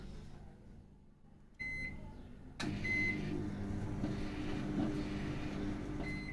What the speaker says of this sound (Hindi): डाल देती हूँ माइक्रोवेव को और टाइम लगा देती हूँ 30 सेकंड्स का।